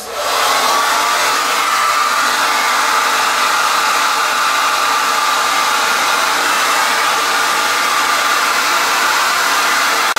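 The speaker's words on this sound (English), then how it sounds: "I'm gonna put this on medium heat, and I'm gonna diffuse." A hair dryer fitted with a diffuser on medium heat gives a steady, loud, broadband whoosh that holds constant from start to finish, with no voices.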